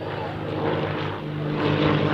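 Propeller aerobatic planes of the Fireflies display team flying formation rolls at an air show: a loud, droning engine roar with steady harmonic buzz that swells toward the end, with a voice faintly underneath.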